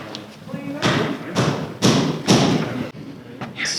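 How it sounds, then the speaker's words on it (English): Wooden shims being tapped during a window installation in a house under construction: a series of dull, heavy thuds at a steady slow rhythm, close by, with someone talking between the knocks. "I'm basically gonna like tap each shim stack little by little and force the window over"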